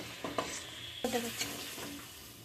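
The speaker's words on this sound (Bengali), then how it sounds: "প্রায় 20 মিনিট ধরে আমি চিকেনটা ভালো করে ভেজে নেব" Chicken frying and being stirred in a pan, with scraping and clattering stirs over a low sizzle, close by and fairly quiet.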